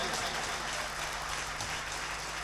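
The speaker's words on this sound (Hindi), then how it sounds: "पहले भरपूर तालियां बजा लीजिए आप।" Audience at a ghazal gathering applauding steadily, a dense continuous wash of many hands clapping at moderate distance without pause.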